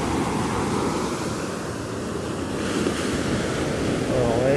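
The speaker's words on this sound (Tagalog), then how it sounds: "hindi ganyang kalaki yung alon. Medyo mas tahimik pa siya. Pero meron na rin current wave." Ocean waves break at San Felipe beach in Zambales, a loud steady surf wash mixed with gusty wind buffeting the microphone.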